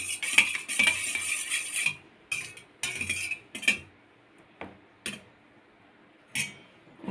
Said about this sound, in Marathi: मी इथे चमच्याच्या सहाय्याने फिरवून घेते, याच्यातील गाठी मोडून घेते